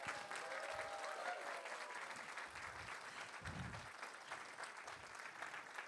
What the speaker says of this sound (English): can you give them a really loud clap?